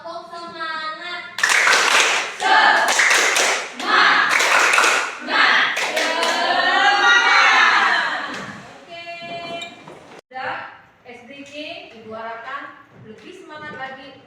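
A school class performs a rhythmic group clapping routine, bursts of sharp unison claps in short patterns alternating with children's and a teacher's voices chanting along, close and loud.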